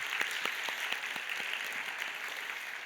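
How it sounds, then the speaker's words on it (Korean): Korean church congregation at a youth worship service giving a round of thankful applause, a soft steady wash of clapping heard from some distance with scattered individual claps standing out. "다시 한번 감사의 박수 드리도록 하겠습니다"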